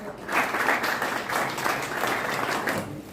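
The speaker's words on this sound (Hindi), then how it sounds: "जोरदार तालियों से डॉक्टर सुजाता संजय" Audience applause at a free public health awareness lecture and health camp, a steady dense wash of clapping from a crowd, fairly loud and close, with no speech over it.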